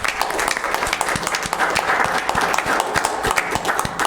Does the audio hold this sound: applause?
yes